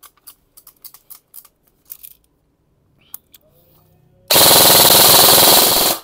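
A gun switched to full auto fires a sustained loud burst of rapid shots that ends abruptly, preceded by a series of soft mechanical clicks and handling noises.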